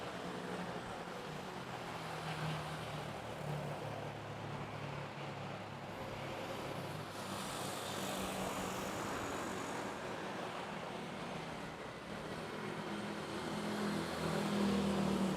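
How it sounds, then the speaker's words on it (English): An Asiana airliner takes off at Manila's Ninoy Aquino International Airport, a steady broad roar of jet engines that holds for the whole stretch and swells slightly toward the end, with no talk over it. "Let's see if we can get Asiana to line up and take off."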